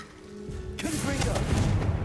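Bombarda explosion spell cast in Hogwarts Legacy, a sudden broadband blast arriving under a second in, followed by a sustained rumbling, crackling wash that stays loud to the end, with a faint tone and game ambience before it.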